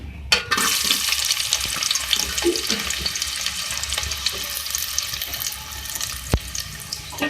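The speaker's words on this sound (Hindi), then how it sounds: "सबसे पहले मैंने यहाँ पे ऑयल लिया है 1/2 कप और इसमें मैं 2 मीडियम साइज़ की प्याज ऐड करूँगी" Half a cup of oil sizzles steadily with two medium onions added for a summer dal chawal dish, a continuous bright hiss running throughout with a few small clicks and no talking.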